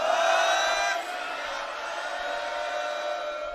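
A large crowd at a Sikh gathering in Sultanpur Lodhi roars back the jakara response in unison, a loud, sustained chorus of shouting voices that peaks in the first second and then carries on as a steadier collective cry.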